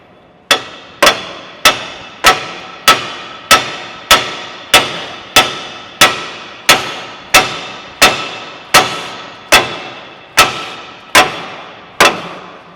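A hammer strikes a truck ball joint in a steady, loud series of about twenty sharp metal blows, evenly spaced, each with a brief ringing decay.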